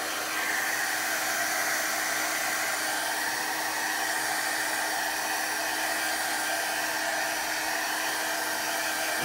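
A hair dryer blows steadily on wet watercolor paint for a journaling background, with a loud, even, continuous roar close to the microphone throughout.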